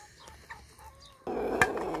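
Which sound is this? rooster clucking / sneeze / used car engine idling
rooster clucking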